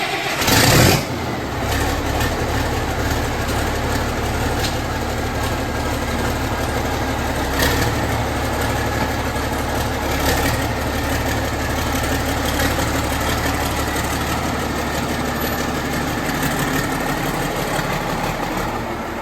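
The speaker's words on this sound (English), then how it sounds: "starting it back up, new turbo" A tractor diesel engine, model 1175 fitted with a new turbo, cranks and catches with a loud burst, then settles into a steady, close idle with a faint high whine above the rumble.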